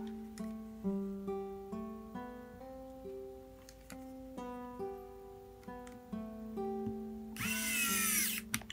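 A WOWSTICK 1F+ electric screwdriver drives screws into plastic on a Switch, whining in repeated short pulses that step up and down in pitch. It is close and fairly quiet, and a brief harsh hiss comes near the end.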